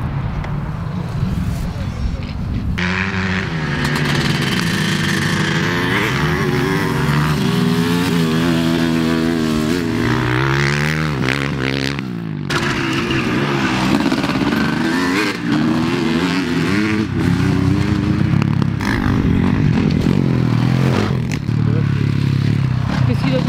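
Rebuilt Yamaha 250RM motorcycle engine in its break-in period, running loud and close with a continuous roar, its pitch rising and falling through repeated revs.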